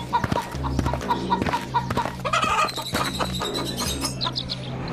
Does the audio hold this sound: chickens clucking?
yes